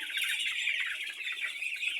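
A continuous chorus of bird calls from a group of about 14 ducks, steady and fairly close, with no voices.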